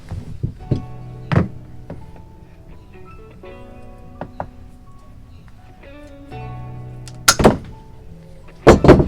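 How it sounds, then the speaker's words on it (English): Stiff 6-2 electrical wire is unwound and cut in half during an RV inverter install, giving scattered thunks, taps and handling clatter with a few sharper snaps near the end, close and fairly loud, with no talk. "So we're going to unwind this and cut it in half."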